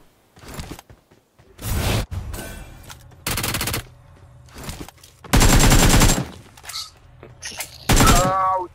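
Gunfire from a video game arrives in loud, separate bursts, some short and some sustained automatic volleys lasting about a second, separated by brief quiet gaps.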